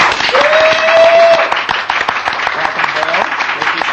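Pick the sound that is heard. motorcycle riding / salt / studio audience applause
studio audience applause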